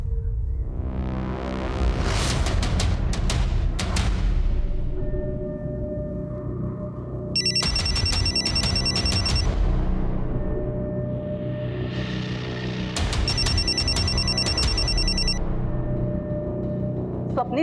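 A telephone rings in an indoor dramatic scene, with two separate bursts of rapid, trilling electronic ringing. The ringing is fairly loud and sits over a steady background of music and room sound.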